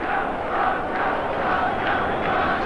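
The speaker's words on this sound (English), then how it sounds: "the big crowd here now have really got something to cheer about" A large crowd at a 1986 soccer match between Melbourne Croatia and Sydney Croatia roars after a goal, a dense sustained cheer heard from a distance with swelling shouts.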